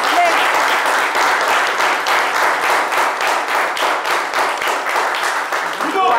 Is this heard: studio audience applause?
yes